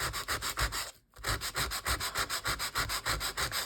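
Fine-grit sandpaper rubbed back and forth over a playing card's surface, giving a close, steady run of rhythmic scratchy strokes with one short pause near the start.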